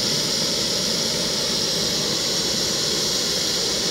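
An MSR Rapidfire camping stove, a discontinued model, roars with a steady, loud jet-like hiss while bringing a liter of water toward the boil, the continuous burner noise unbroken throughout.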